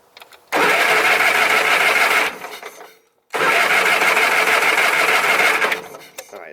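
A 20 hp Kohler Magnum engine on a 1980s Simplicity Sunstar garden tractor cranks over in two loud, steady starter bursts of about two seconds each, separated by a short pause.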